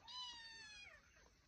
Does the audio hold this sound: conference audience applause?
no